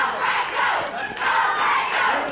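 Wrestling crowd cheering and yelling in a loud, continuous roar that swells and dips slightly, filling the arena without a break.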